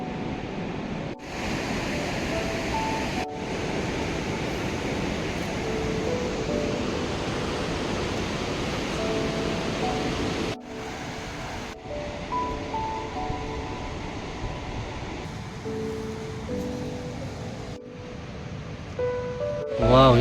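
A mountain river rushes below a trekking trail on the way to Kanchenjunga base camp in Nepal, a steady broadband roar of flowing water that fills the whole stretch with little change, broken only by a few brief dips.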